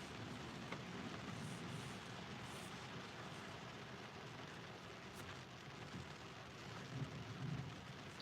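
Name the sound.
thunder rumbling during rainstorm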